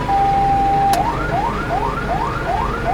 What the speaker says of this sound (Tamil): ரொம்ப எமர்ஜென்சினா ஹைலோ இந்த மாதிரி சைரன் போட்டு மூவ் பண்ணுவோம் வண்டியை